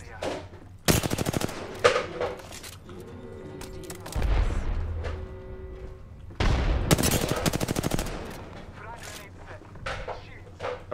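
Gunfire in the shooter game, including the Kraber, comes as sharp bursts of rapid shots in several clusters with booming impacts between them, loud and close, while a player talks intermittently.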